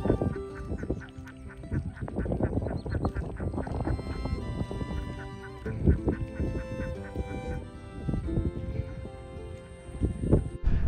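A flock of ducks in a rice field freshly worked by a rotovator, quacking densely and continuously nearby with overlapping calls throughout, no speech.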